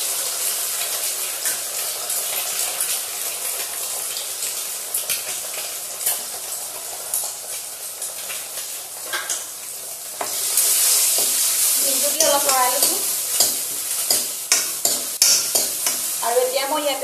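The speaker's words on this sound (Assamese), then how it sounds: "ডিমটো ইয়াতে প্ৰথমতে ফ্ৰাই কৰি ল'ম" An egg sizzles and crackles steadily in a hot pan, cooked first for an egg and ridge gourd dish, growing louder and busier partway through as it keeps frying, with no voices.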